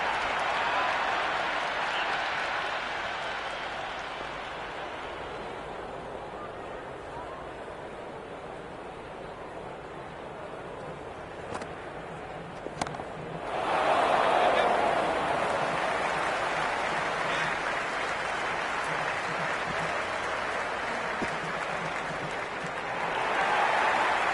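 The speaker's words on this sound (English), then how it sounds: "The crowd is electric right now." A cricket stadium crowd cheers and applauds in a broad, sustained wash of noise that dips slightly, then swells louder past the midpoint, with faint voices mixed in.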